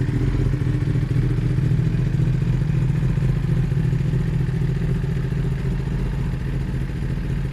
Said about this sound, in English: let it warm up and we'll rev it a little more.